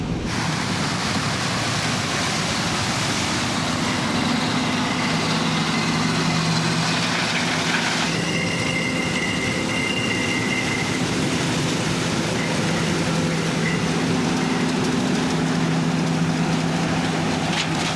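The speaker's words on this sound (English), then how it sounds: "So this is the tractor and grain cart that we're gonna be running." Tractor engine running with a 1,000 bushel grain cart during corn harvest, a loud continuous diesel rumble with steady droning tones and a mechanical whine shifting partway through, no voices.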